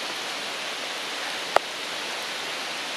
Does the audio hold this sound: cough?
no